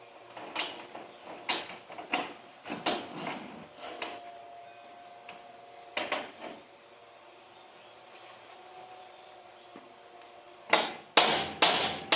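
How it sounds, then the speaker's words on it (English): Sharp hammer blows in short clusters while converting a carport to a garage, then a pause with faint ringing, then a final quick run of loud strikes close by. "I think I'll just hit it with the hammer."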